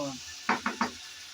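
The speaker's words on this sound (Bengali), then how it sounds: "আমি শুরুতেই ভালোভাবে নেড়ে চেড়ে একটু মিশিয়ে নিচ্ছে" Malabar spinach (pui shak) is stirred in a pan, making three quick scraping, rubbing strokes close by against a faint background sizzle, with the tail of a voice at the very start.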